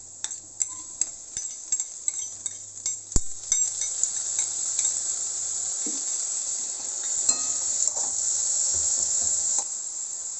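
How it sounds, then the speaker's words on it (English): Tomatoes go into a hot pan of pulao with cooked beans, giving a steady bright sizzle of frying with sharp stirring clicks and scrapes throughout, close up with no talking. "So at this point, we are going to add the tomatoes."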